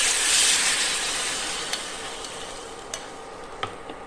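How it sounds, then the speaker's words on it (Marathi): A hot spice tempering poured onto yogurt for oats dahi vada bursts into a loud hissing sizzle that slowly fades, with a few small clinks of a spoon near the end. "अशा पद्धतीने तुम्ही ही फोडणी दह्यावर टाकून"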